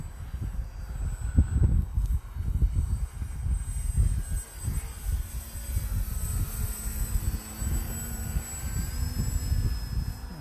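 A radio-controlled plane flies at about half throttle at night, its motor a steady mid-level drone with fluctuating low rumble and a thin high whine, continuous and fairly near without talk.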